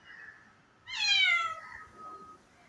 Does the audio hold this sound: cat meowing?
yes